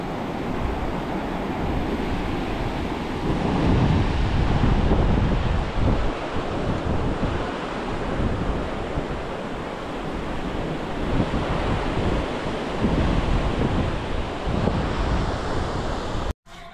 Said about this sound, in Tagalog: Layo ng dagat lalo doon sa baybayo.